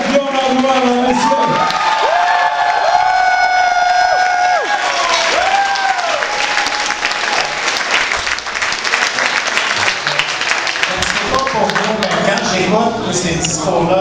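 A crowd at a Quebec election night rally cheers, whoops and applauds loudly and continuously, with shouts rising over sustained clapping and a voice speaking near the start.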